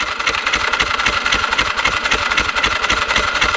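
A motorcycle engine, stranded out on a Blue Mountains trail ride near Sydney, turns over and settles into a steady, loud, rhythmic idle running close by with no talk.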